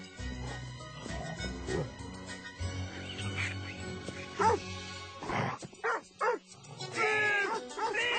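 A dog in a video game gives several short yips and barks, fairly close and quiet, spread across the stretch among game sounds and a little talk.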